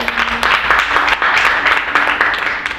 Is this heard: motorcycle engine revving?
no